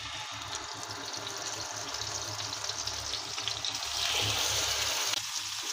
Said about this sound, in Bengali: তো গরম হয়ে গেছে, এখন আমি মাছগুলো দিয়ে দিব।